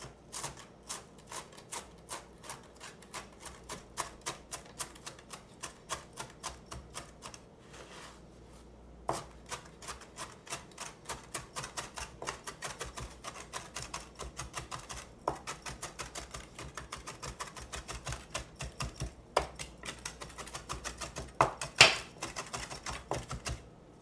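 A knife rapidly chops crispy fried garlic chips on a board, making a long run of sharp, dry, crackling taps in a quick, uneven rhythm, close up with no talking.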